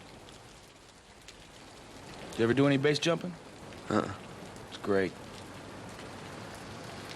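Steady rain falls throughout as a constant wash, with someone talking over it in short bursts.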